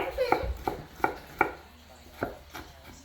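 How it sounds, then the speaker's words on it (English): A knife finely dices vegetables for pico de gallo on a cutting board, giving a steady run of about eight close, crisp chops in a back-and-forth rhythm with faint background voices. "you're gonna dice them very finely, very tiny. Right? You can do this back and forth motion like this as you're cutting"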